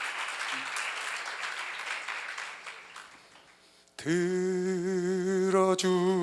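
Congregation clapping at a church seminar, a steady wash of applause that fades away before singing voices and instruments come in.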